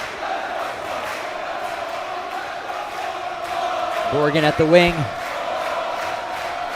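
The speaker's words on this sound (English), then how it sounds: "TABC crowd getting into it early." A high school basketball crowd at a championship game roars and chants in the gym, with a swell of cheering and shouting partway through under steady play-by-play commentary.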